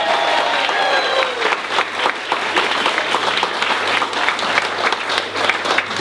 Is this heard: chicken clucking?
no